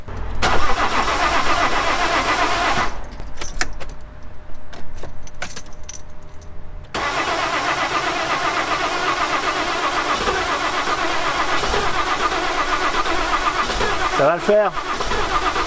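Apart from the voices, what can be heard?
Citroën C6 car engine starting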